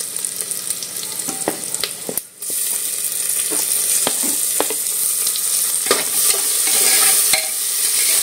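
Chopped onion and tomato being sautéed in a pan for dal khichdi, with loud, close stirring scrapes over a steady sizzle and a brief lull near the two-second mark. No voices.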